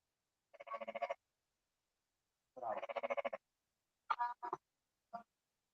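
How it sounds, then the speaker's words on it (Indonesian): Several loud, close croaks in separate bursts with pauses between, the calls rasping and rhythmic, heard alone without talk, during an online meeting. "Suara kodok siapa tuh bunyi?"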